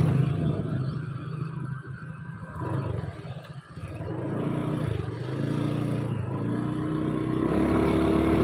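A Honda Beat motorcycle engine idles and revs with a rough rattling, crunching rumble, steady and close, its pitch rising and falling slightly throughout with no talk over it.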